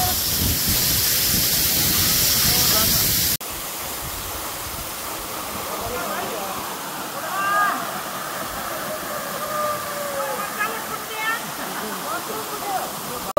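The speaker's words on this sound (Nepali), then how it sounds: "ल हामी झरना पुगिसकेका छौँ।" Jethi waterfall in Nepal roars loudly at first as a dense, steady rush, then drops to a softer distant hiss. Birds chirp and whistle over it, and people talk faintly nearby.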